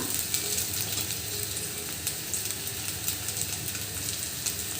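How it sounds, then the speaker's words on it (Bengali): Ginger and garlic frying in a pan for beef tripe fry, giving a steady, close, loud sizzle with faint scraping and ticking from stirring throughout, no voices. "আদা রসুন দিয়ে দিয়েছি এগুলো এখন ভেজে নেব"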